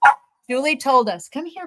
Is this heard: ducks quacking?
no